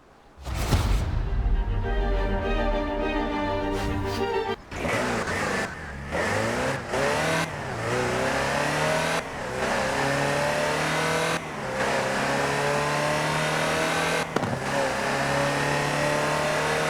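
A Land Rover Type 3 in Forza Horizon 4 revs loud and close, its engine note climbing and dropping in repeated throttle sweeps, with brief gaps between rising pulls.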